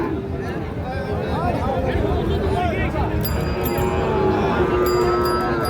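Two young Sahiwal bull calves at a busy rural cattle market, with low lowing calls rising out of a constant crowd babble as people talk close by.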